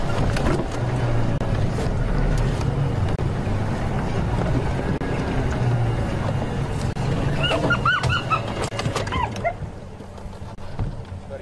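A safari vehicle in South Africa drives into position with a loud, steady engine rumble and heavy wind buffeting. It eases and quiets near the end, with faint bird calls and a murmur of voices.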